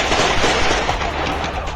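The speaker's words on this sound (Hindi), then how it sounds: "गोलियां ऐसे चल रही हैं मानो किसी फिल्म की शूटिंग चल रही है।" Gunfire ringing out in a street during unrest in Pakistan-administered Kashmir, a loud, dense stretch of rapid overlapping shots that fills the whole moment without pause.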